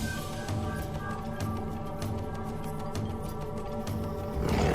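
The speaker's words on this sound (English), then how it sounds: "The deep rumble of a lion's roar can be heard 8 kilometers away." A lion's deep, rumbling roar, close and loud, with low grunting pulses repeating over several seconds and a heavier burst at the end.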